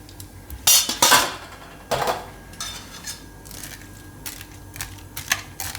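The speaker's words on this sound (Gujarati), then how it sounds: "અને તેલ ગરમ થાય ત્યાં આપણે આમાં બધું મિક્સ કરી લેવું." A spoon clinks and scrapes against a bowl while mixing vegetables and vermicelli, a few sharp metallic knocks followed by lighter irregular tapping and rustling, close and with no talking.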